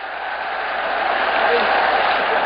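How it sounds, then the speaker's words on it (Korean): Warm audience applause welcoming a professor onto the stage at a career-exploration lecture, a steady, dense wash of clapping that builds slightly and holds loud throughout. "뜨거운 박수로 한 번만 김창 교수님 맞아주시기 바랍니다"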